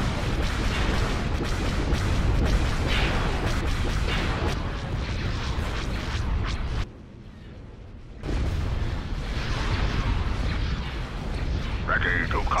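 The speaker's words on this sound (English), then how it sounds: "That TIE Fighter got blown up." Explosions and laser blasts fill a Star Wars space battle as TIE Fighters and Y-Wings are destroyed, with dense, loud, continuous booming rumble, a brief drop to quiet near the middle, then more blasts.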